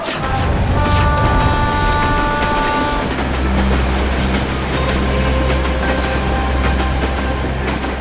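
A train pulls away from a station with a loud, continuous rumble, rhythmic wheel clatter and sustained tonal whine or horn, close and dominant throughout, with no voices.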